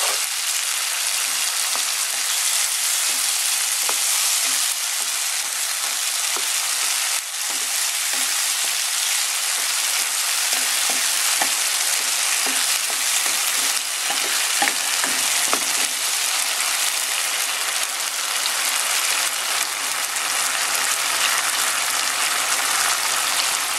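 Sardines sizzling with chopped tomatoes in a hot pan, a loud continuous frying hiss with scattered pops and occasional scraping stirs, close and steady throughout.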